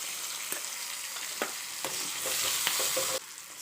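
Chillies sizzle and fry in hot oil, a steady crackling hiss with occasional stirring clinks and pops, close and continuous.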